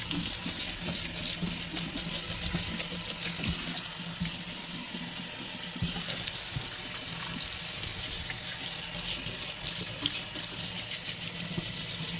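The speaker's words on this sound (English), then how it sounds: "We already have the warm water running" Warm water runs steadily from a kitchen sink faucet into the basin, a continuous close splashing hiss with small gurgles and clinks of dishes; no talking.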